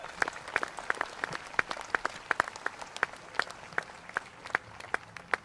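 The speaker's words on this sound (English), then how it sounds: "So let's give them a round of applause." A small audience at a LaGrange Patriots Labor Day Tea Party gathering applauds a speaker, a scattered, fairly sparse patter of individual hand claps heard from a moderate distance, keeping up a steady uneven rhythm for several seconds with no voices over it.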